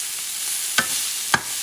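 Shrimp fry in a pan, a steady bright sizzle broken by two sharp scraping clicks as pieces are flipped.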